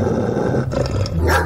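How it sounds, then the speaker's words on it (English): A large dog barks and growls angrily at close range, a continuous rough run of harsh, aggressive barking with no talk over it. "Cue the angry barks."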